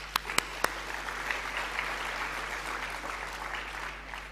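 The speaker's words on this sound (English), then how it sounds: "A round of applause, ladies and gentlemen." Steady applause from a large audience at an awards ceremony, dense continuous clapping with a few sharp louder claps at the start, under a faint constant hum.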